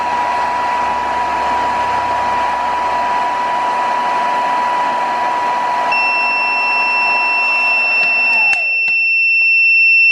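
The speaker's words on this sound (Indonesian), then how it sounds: "Alarm berbunyi lagi." A motor-like whir runs steadily, then a piercing continuous electronic alarm tone from an Internet of Things device starts partway through and keeps sounding loudly.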